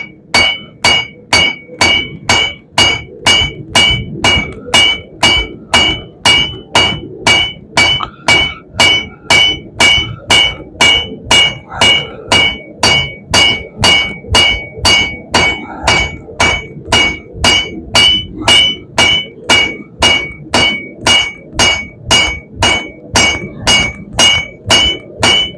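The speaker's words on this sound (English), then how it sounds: "I'm going to go ahead and work this opposite side with the round part of the hammer" Steady, rhythmic blows from the round face of a hammer ring out on metal against an anvil while forging an herb chopper, dozens of sharp clanging strikes at an even pace with no talking.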